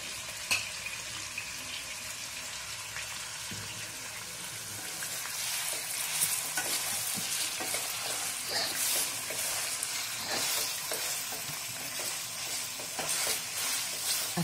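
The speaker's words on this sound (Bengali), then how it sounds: "আমি মাটনটাকে এবার লো টু মিডিয়াম ফ্লেমে করে ভালো করে ভেজে নেব" Mutton pieces frying in oil over a low to medium flame, Kolkata Park Street style, give a steady close sizzle with scraping stirring clatter and small clinks throughout, no voices.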